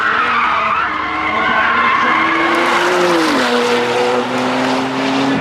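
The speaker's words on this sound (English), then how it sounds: "That Tesla with a good run, but CLEETUS protects. Porsche got it" A Tesla and a Porsche race hard on an open track, engines droning loud and continuous with a rising and falling pitch sweep, while tires squeal and skid through the turns.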